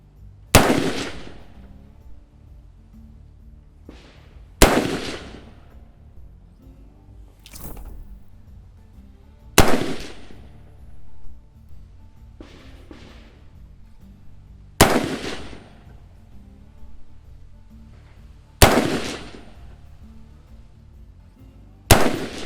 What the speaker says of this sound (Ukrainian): тільки що стрельнули на групу 5 пострілів GGG 175 грейн